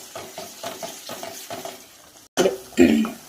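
Tomato pickle cooking in oil is stirred with a spoon in rhythmic scraping strokes over a soft sizzle, followed by a brief pause and a couple of louder pan clatters.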